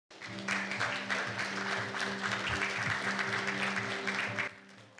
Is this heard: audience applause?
yes